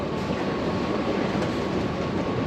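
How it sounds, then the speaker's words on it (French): A Bangkok metro train running underground, a steady rumbling roar of wheels on rails heard from inside the carriage, with a faint whine and no pauses. "Retour dans le métro"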